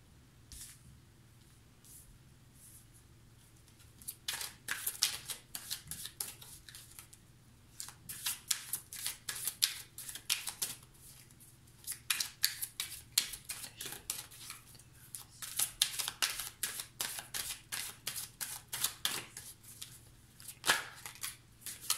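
Oracle cards are shuffled and pushed together in short bursts of quick papery riffling and flicking, quiet and close, broken by brief pauses.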